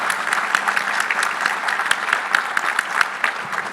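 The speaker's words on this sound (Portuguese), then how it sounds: "eu queria também pedir uma salva de palmas aqui para os dois colegas" Audience applause at a panel talk on risk management in industry and supply chain, steady dense clapping from a crowd, fairly close and sustained throughout with no voices over it.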